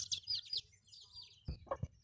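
Seven newly hatched chicks peep in high, rapid chirps, with a few lower clucks from their mother hen joining near the end.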